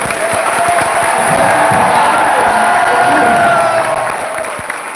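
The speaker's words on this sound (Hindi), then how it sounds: "तो एक बार इतने जोरदार तालियां होनी चाहिए" A large crowd welcomes a guest at a live motivational event with loud, sustained clapping and cheering, steady for several seconds before tapering slightly at the end.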